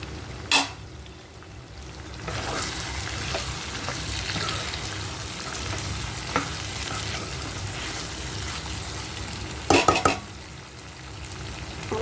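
Green chillies sizzling and frying in a pan while making chicken fry, a steady close hiss with a few sharp stirring clinks against the pan.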